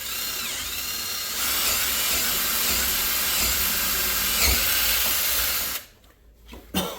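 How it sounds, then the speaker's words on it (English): Power drill boring a pilot hole in wood for a screw while building a child's wooden bench, a steady high whine held for several seconds, then cutting off, followed by a brief sharp clunk. "just drill a hole so we can start our screw"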